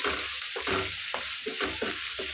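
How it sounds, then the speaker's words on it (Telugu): Ginger paste sizzles and fries in hot oil for an Andhra-style prawn curry, a steady crackling hiss broken by rhythmic scraping stirs in the pan, close up with no talking. "అల్లం పేస్ట్ కూడా బాగా వేసుకోవాలి నూనెలో"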